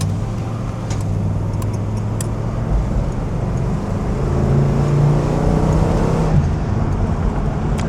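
A 1969 Oldsmobile 442 W-30 with its torquey 360-horsepower engine pulls hard in a race against a Rolls Royce, a loud sustained engine drone from inside the car that swells as it accelerates, with road rumble beneath.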